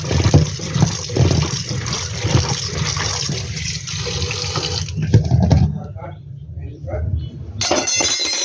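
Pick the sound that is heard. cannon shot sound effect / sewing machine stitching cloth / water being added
water being added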